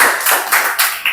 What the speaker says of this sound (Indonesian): Oke, tepuk tangan buat ini dong guys.